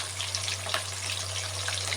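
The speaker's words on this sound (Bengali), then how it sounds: "এখন মাছগুলো গরম ছিটকাচ্ছে" Fish fry in plenty of hot oil with the oil spattering, a dense, continuous crackle heard up close over a low, steady hum.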